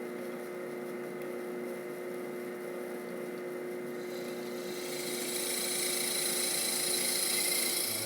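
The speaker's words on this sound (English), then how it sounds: "I'm going to drill my 3/8 inch holes that are big enough for the bolts to go through" Drill press boring 3/8 inch bolt holes, a steady motor whine running throughout and growing brighter and louder in the second half as the bit cuts, with no speech.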